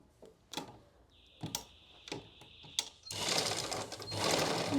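Sewing machine stitching a folded half-inch salwar waistband casing, starting with short separate bursts, then running steadily and loudly for the final stretch.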